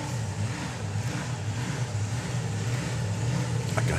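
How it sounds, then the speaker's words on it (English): At a drag race, a supercharged slingshot dragster idles with a deep, steady engine rumble that grows slightly louder toward the end of the clip. "It's Mick Hanna with the Haggis Hunter, Slingshot Dragster"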